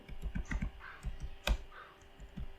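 Fingers type a command on a computer keyboard, a quick irregular run of close, soft clicks and key taps with short pauses between bursts.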